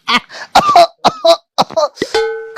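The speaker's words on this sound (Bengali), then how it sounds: "কাশিটা বড্ড বাড়িছে" Harsh throat-clearing coughs come in quick close bursts, about six or seven loud rasping hacks with brief gaps, the last ending in a drawn-out voiced groan.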